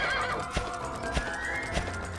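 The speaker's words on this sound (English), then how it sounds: "my horse isn't accustomed to being ridden" Horse hooves clip-clop in a steady rhythm with a whinny, from the Dragon Quest VIII: Journey of the Cursed King video game, loud and close over a game backdrop with no talk.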